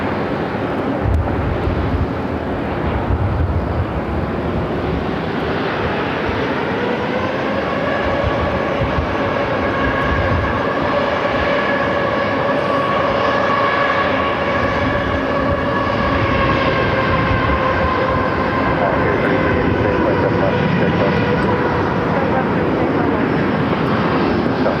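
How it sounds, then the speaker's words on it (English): A Star Alliance livery Airbus A330-300 airliner taxiing toward the runway at Phoenix airport, its jet engines giving a loud, continuous roar with a rising whine that swells and holds, heard close. "Star Alliance Livery A330-300 heading to runway 8 there on the north side"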